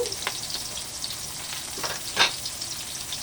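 Onions sautéing in a pan for pork kare-kare, a steady broadband sizzle with occasional stirring scrapes and one louder hiss burst midway, close up and without talk.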